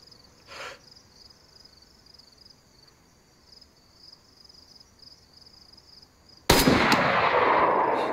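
A single loud, sharp gunshot cracks out near the end of a video game round, breaking a quiet stretch of steady cricket-like ambient chirping and trailing into a sustained noisy rush.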